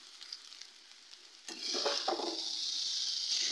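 Veg chowmein stirred in a kadai over a medium flame: soft frying and a few light scrapes at first, then a sudden louder, steady sizzle with tossing and stirring noises that continues to the end.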